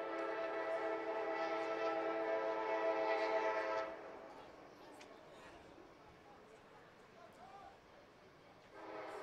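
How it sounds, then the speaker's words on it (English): A train passes behind a college rugby sevens championship match, its horn blowing steadily for about four seconds at a distance before fading to a low rolling rumble with faint crowd ambience. "this train comes through in the background"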